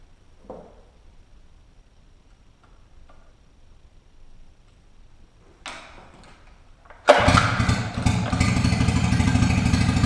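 A 9.9 HP Mercury outboard motor, carburetor freshly cleaned and rebuilt, starts after a few faint clicks and handling noises, then runs loud and steady at a rough idle for the last three seconds.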